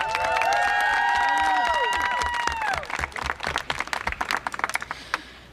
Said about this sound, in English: So one more round of applause for the folks behind me.